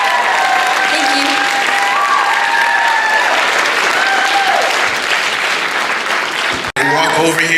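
An audience at a school student talent showcase claps loudly and steadily for several seconds, a dense, continuous burst of applause filling the room before a brief drop at the end.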